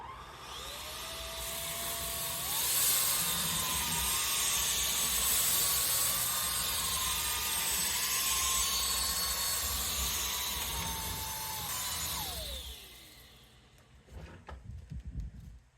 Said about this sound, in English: out to the hardwood floor / flat floor brush, and we'll see how this does.